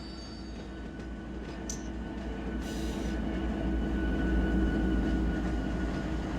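Low, heavy rumble of locomotive engines in Run8 Train Simulator idling and pulling forward on a switching job, steady and growing slightly louder, with faint metallic rail noise and a brief hiss.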